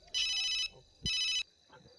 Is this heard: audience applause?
no